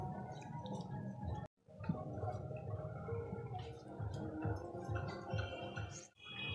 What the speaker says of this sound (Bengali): এই জলটাকে ভালো করে নিগড়ে নিতে হবে